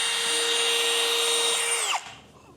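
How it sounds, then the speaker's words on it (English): Power drill whines at a high steady pitch while boring holes in wood near the end grain for a mobile chicken coop, then spins down and stops abruptly, loud and close with no speech. "to drill these holes"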